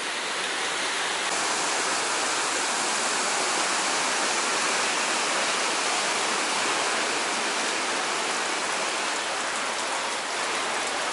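Water pouring out at a resort in Benoy, Chechnya, a constant dense rushing and splashing like a heavy spout or small fall, loud and close with no pauses.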